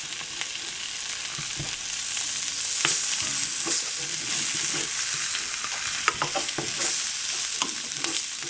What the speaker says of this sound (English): We turn it over so both sides get a bit of sauteing, like that.